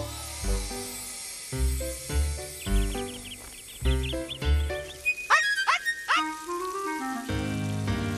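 A cartoon puppy in a Strawberry Shortcake cartoon yips in short, repeated barks over bouncy music with plucked notes and sliding whistle-like effects.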